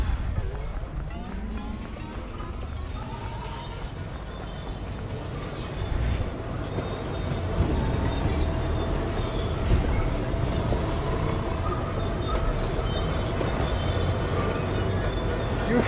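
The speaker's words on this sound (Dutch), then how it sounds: "de trein is op het station" A train pulls into a station in the video game Dishonored, with continuous rumbling rail noise and high, drawn-out wheel squeals rising and falling across the whole stretch.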